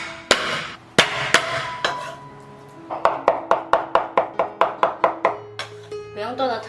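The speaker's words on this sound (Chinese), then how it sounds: "虾肉拍扁，再稍微剁碎" Shrimp meat pounded flat and then chopped on a cutting board with a cleaver, a few heavy slaps followed by a quick, even run of about a dozen close, sharp chops, with faint background sounds between strikes.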